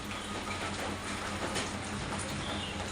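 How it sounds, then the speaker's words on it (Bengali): Light rain falls steadily outdoors as a soft, continuous hiss, faint and even, with no voices over it. "বৃষ্টি দেখো এখনো হয়েই যাচ্ছে একটু একটু একটু একটু করে হয়েই যাচ্ছে"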